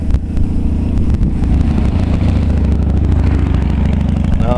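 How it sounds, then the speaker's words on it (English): A motorcycle rumbles by loudly and close, its engine drone steady throughout with no voices. "you see a guy on a motorcycle"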